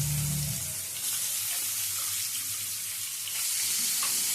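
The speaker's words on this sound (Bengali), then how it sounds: "এবারে এই তেলের মধ্যে দিয়ে দিচ্ছি মাছগুলো।" Baim fish (freshwater eel) goes into hot oil after potatoes were fried in the same pan, giving a constant, fairly loud sizzle and spatter that swells slightly in places, with no one talking.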